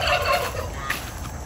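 A turkey gobbles in a quick rattling burst, close and fairly loud, followed by softer fowl noise.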